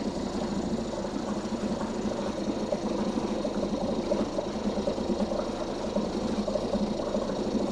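A boat outboard engine, left un-winterized and sitting for six months, runs on choke with a steady, close, rattling idle and a busy mechanical clatter, with no voices.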